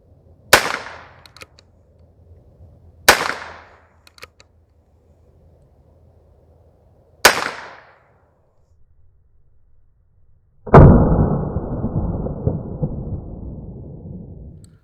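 Three sharp, loud gunshots from a Heritage Rough Rider Rancher carbine ring out a few seconds apart, each with a short decaying tail, followed by a longer broadband burst of noise or rustling near the end.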